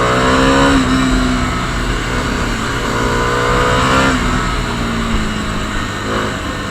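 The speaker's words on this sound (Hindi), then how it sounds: "एंड पुल करते हैं थोड़ी सी बाइक।" A Bajaj Pulsar N250 motorcycle engine revs up loudly and steadily, its pitch rising through the throttle pulls with a brief dip midway. No one talks.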